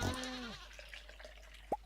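A goat in the farming game Stardew Valley bleats once during milking, a short nasal cry at the start, followed by faint soft game sounds and a small bright pop near the end.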